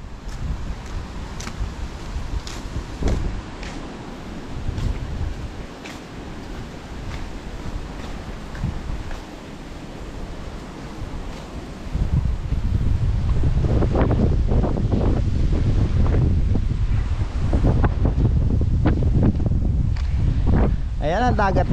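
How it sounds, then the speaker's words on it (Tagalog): Strong sea wind buffets the microphone by the shore, rumbling steadily and swelling louder in the second half, while a person talks over it throughout. "Ayan ang dagat namin ngayon mga kasinag oh. Hibas ang dagat natin ngayon. Ayan. Sarap ng hangin. Ang lakas ng hangin."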